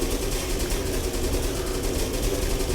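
A Supermarine Spitfire engine idling on the ground, a steady, dense low rumble with broadband roar held at an even level throughout, no break or change in pitch.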